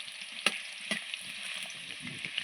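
Potatoes fry in a pan with a faint, even sizzle, punctuated by a couple of brief utensil clicks.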